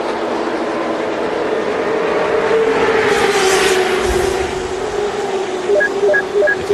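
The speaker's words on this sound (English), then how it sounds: "It does take a little while for these restrictor plate motors to get wound up and the speeds to pick back up." Restrictor plate stock car engines at Talladega accelerate together after a restart, a dense, steady roar of many cars that swells slightly, heard at a distance without talk.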